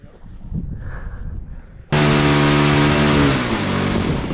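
An 83-inch balsa trainer RC plane roars at full throttle, its engine note jumping in abruptly and holding loud and buzzing with a slight falling pitch, after a stretch of wind-buffeted ambience.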